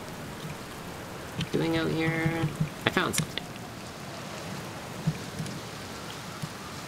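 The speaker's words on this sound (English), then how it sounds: "It's a good thing I never get bored of rain" Steady rain falls throughout in Outer Wilds: Echoes of the Eye, a constant hiss of drops on surfaces, while a voice speaks briefly over it midway.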